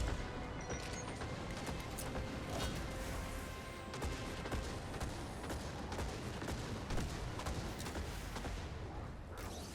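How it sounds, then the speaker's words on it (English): Dense, continuous gunfire and explosive bursts from a Destiny 2 Grandmaster Nightfall fight in Lake of Shadows, loud and chaotic throughout, with a grenade blast buried among repeated shots and impacts. "That was a pretty solid grenade."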